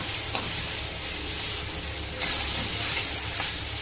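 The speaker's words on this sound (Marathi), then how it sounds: "लसूण आणि अद्रक आणि ती चांगली भाजून देणार आहे।" Garlic and ginger frying in a pan for pav bhaji, a continuous loud sizzle with brief swells and a couple of stirring scrapes, no voices.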